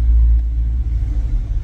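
Chevrolet Corvette Z06 in plain black, recovering from a no-start fault and running on a weak battery, its engine giving a deep, close rumble with a brief blip of revs.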